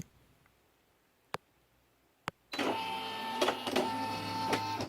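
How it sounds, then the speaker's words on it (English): A Brother PE-800 or SE-1900 embroidery machine hums and whirs as its motor drives the hoop into position, a steady mechanical buzz with a few clicks that starts after two sharp taps. No one talks. "now the hoop's going to move, and you press this."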